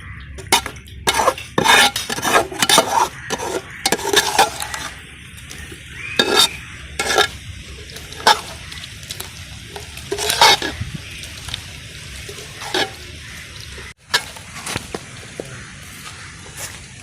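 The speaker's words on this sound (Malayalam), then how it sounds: "നന്നായി ഇളക്കി കൊടുക്കുക." A spoon scrapes and clanks against a frying pan while egg roast curry is stirred, with repeated irregular metallic knocks over a soft sizzle, close and fairly loud.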